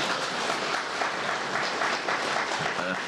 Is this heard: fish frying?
no